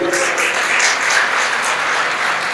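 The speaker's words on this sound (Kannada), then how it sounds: "ಗಂಡಸರು ಚಪ್ಪಾಳೆ ಬಡೀರಿ" Men in a stand-up comedy show audience clapping together, a loud, dense, sustained burst of applause throughout, with no speech over it.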